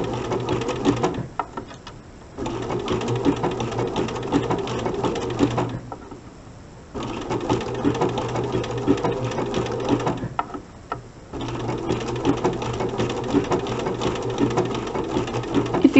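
A sewing machine sews a single buttonhole stitch for machine applique, running in steady rapid bursts with a few short pauses between runs, close and clear, with no talking.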